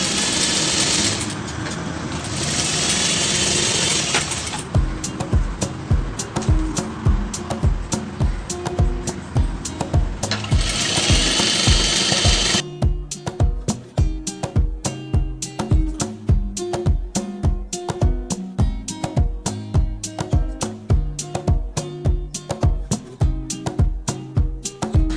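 A sewing machine stitches a blouse lining onto the main fabric, running in a continuous burr at first, then in a fast, clear rhythmic chatter of needle strokes, loud and close with no talk.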